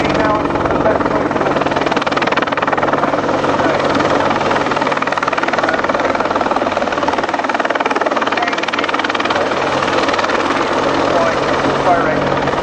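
An Army Air Corps Apache attack helicopter flies at an air show, its loud, steady rotor and turbine roar continuing throughout, while a commentator talks over the public address.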